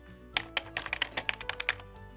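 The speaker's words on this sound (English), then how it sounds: "I'll type 1 2 3 4 5 6 7 8." Number keys on a computer keyboard are pressed one after another, about a dozen crisp, close clicks in an uneven quick rhythm over a quiet background, with no talking.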